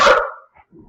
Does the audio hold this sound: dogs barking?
yes